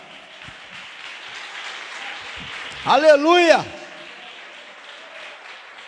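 A church congregation applauds in a soft, continuous patter, and partway through a voice rings out loudly over the clapping.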